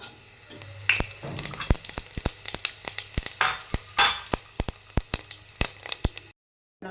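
Cumin seeds sizzle in ghee in a kadai, sharp crackling pops and spits repeating steadily over a low frying hiss, close and fairly loud, ending abruptly in silence.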